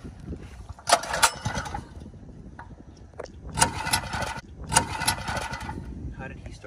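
A small mini bike engine starts with a few rough bursts, then sputters and revs unevenly in short surges, heard at moderate distance with people talking nearby.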